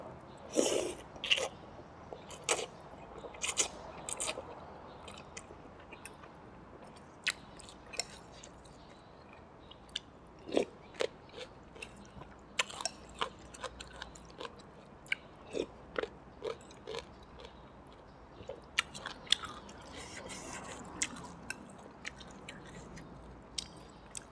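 Close-up eating of Thai khanom jin rice noodles with creamy coconut tilapia fish curry, soft-stewed chicken feet, long beans and cabbage: irregular crunchy bites and wet chewing, some sharp and loud, spread over quiet pauses without talk.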